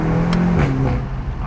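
A 2016 VW Golf GTI Clubsport fitted with an Akrapovic exhaust revs close by, its engine note rising and falling in a steady, loud burst with no talking.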